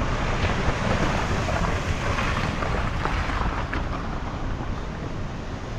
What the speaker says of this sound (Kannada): ನೀರೆಲ್ಲ ಹೆಂಗೆ ಹರ್ಕೊಂಡು ಹೋಗ್ತಾ ಇದೆ.